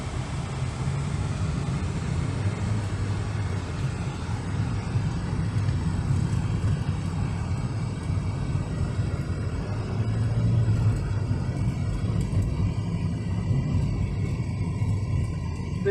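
A 2020 Volkswagen Santana GTS wagon cruising in drive gives a steady low engine and road rumble from inside the cabin, even and continuous with no talking.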